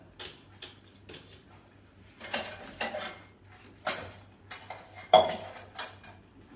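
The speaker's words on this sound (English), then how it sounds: "I'm going to strain that sauce so that it has time to also come through the strainer" Metal utensils clink and scrape against a strainer and bowl as sauce is pushed through, in irregular bursts of close, moderately loud tapping and scraping with quiet gaps between, no talking.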